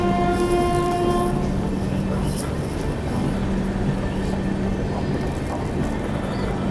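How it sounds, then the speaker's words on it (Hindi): The Duronto Express is heard at Khurda Road junction as it departs, a sustained rolling rumble of a train passing at station distance with a long horn tone held through the first second or so. "और यहाँ किसी ट्रेन का डिपार्चर भी हो रहा है पूरी लाइन की ओर।"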